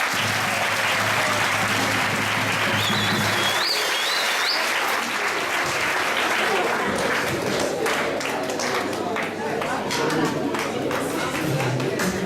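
At a school prize-giving ceremony, an audience breaks into sustained, loud applause that fills the room for about twelve seconds, with scattered voices and a brief whistle-like tone mixed into the clapping.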